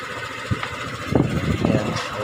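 A Honda ADV 150 scooter engine idles close by after an ECU repair, a steady low running rumble with a few uneven bumps and no talk.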